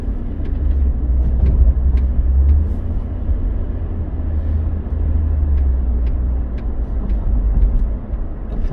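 Steady car engine and tyre rumble on the road near Detroit, a continuous low drone with light clicks as the vehicle moves between lanes.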